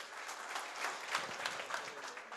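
Audience clapping at a 50th birthday celebration in Qatar, a steady, moderately loud patter of many hands sustained throughout with no voices standing out.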